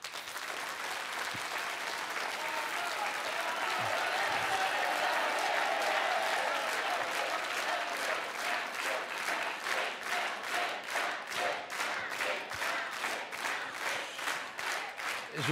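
Studio audience applause on a French TV game show swells into a dense, loud wash, then settles into a steady rhythmic clapping in unison that continues to the end, with no talk over it.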